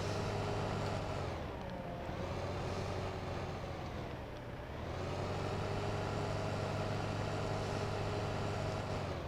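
A farm vehicle drives along in Farming Simulator 15, its engine droning steadily throughout with a couple of dips in tone as it shifts or slows.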